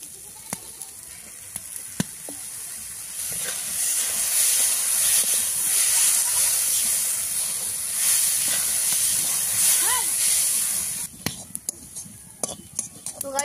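Lentils for a Bengali vegetarian dal frying in hot oil in a pan, a steady close hiss and sizzle that swells midway, with occasional stirring clinks and scrapes, no talk over it.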